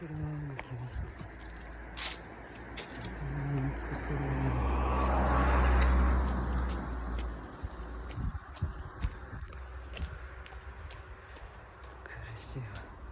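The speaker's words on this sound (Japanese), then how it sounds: "車を来ました。" A car approaching on a street, its rumble swelling to a peak and then fading, mixed with tire hiss, while people talk nearby.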